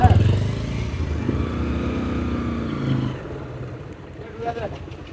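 A motorbike engine runs close by at a park near a river ghat in Kahalu, Bogura, as a loud, steady drone that eases off after about three seconds, while someone speaks over it.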